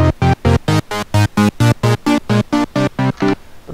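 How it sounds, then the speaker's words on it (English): Sylenth1 software synth playing a repeated chord pattern, about fifteen evenly spaced bright stabs, as the low pass filter cutoff is swept so the tone changes from note to note, ending with a short fading tail. "You can tell that as I adjust the cutoff, in action, you can hear the LP, the low pass filter in action."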